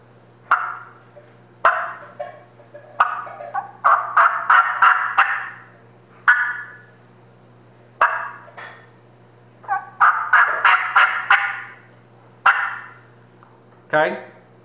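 Hunter's call imitating a wild turkey hen in a cluck-yelp-cluck sequence: sharp single clucks and bursts of rapid, raspy yelps, repeated in several loud, close groups separated by short pauses.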